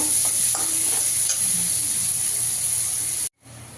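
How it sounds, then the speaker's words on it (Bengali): A large chopped onion frying in a pan until reddish makes a loud, bright, steady sizzle with stirring scrapes, broken by a brief silence near the end before a quieter sizzle resumes. "পেঁয়াজটা একটু লাল লাল করে ভেজে নেব।"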